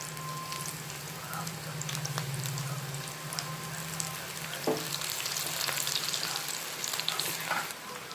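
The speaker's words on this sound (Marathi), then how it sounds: "हे तळून घेणार आहोत आपण तर छान असे टेस्टी मस्त तळून घेणार आहोत कांद्याचे पकोडे किंवा भजे" Onion pakoras in gram-flour batter fry in oil with a loud, continuous crackling sizzle that crests and settles, the pieces stirred through it now and then.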